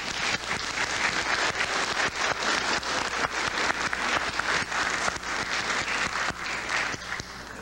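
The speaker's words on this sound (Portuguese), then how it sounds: "Vamos aplaudir, gente." A crowd applauding, dense overlapping claps sustained throughout at an even, lively level.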